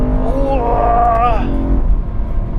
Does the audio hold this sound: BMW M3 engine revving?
yes